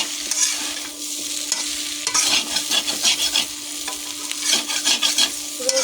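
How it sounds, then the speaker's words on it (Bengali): Fish curry masala with ginger and cumin being stir-fried briefly in a pan, a close sizzle broken by repeated scraping and stirring strokes, with no voices. "অল্প একটু কষিয়ে নেবো, বেশিক্ষণ কষাবো না"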